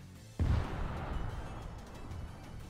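A demolition charge goes off in DayZ on Namalsk, one sudden heavy blast that rolls into a long, fading rumble and settles into quiet.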